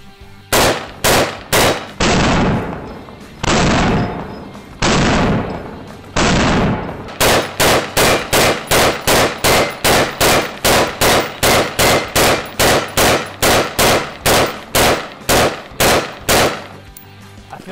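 A rifle fires green tip 5.56 rounds through a full 30-round magazine at body armor: a few spaced single shots, then a fast, steady string of loud, sharp reports, each with a short echoing tail.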